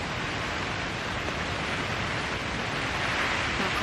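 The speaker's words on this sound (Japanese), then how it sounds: "まずめっちゃ雨降ってきたけど、" Heavy downpour drums on a tent during a windy campsite storm, a close, continuous broadband roar with no pauses and no voices.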